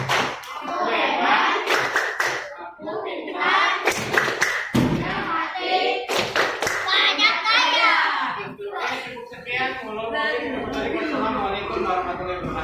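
A school class gives a round of applause, with hand claps and thumps mixed in among children's voices and an adult speaking, loud and close, rising and falling in bursts.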